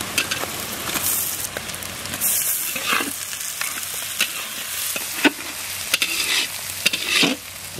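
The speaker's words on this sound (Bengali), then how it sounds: "এবারে আদা রসুনটা একসঙ্গে দিয়ে দেবো" Ginger and garlic fry with browned onions in a pan, giving a steady sizzle broken by repeated sharp scrapes and clatters of stirring, close and fairly loud.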